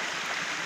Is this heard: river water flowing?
yes